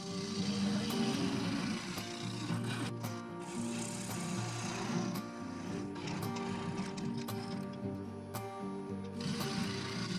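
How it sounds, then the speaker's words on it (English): Wood lathe turning a mixed wood offcut and three-colour epoxy resin bowl as the tool cuts away the base, a continuous rough scraping whir with a low motor drone throughout. "then I could set to cutting away the remaining resin and wood in the base"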